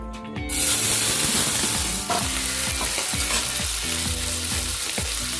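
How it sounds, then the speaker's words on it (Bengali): Vegetables frying in hot mustard oil for a bread upma, a loud steady sizzle throughout with repeated clanks and scrapes of stirring against the pan. "তেল গরম হয়ে গেছে, এবারে ভেজিটেবলগুলো ফ্রাই করে নেব।"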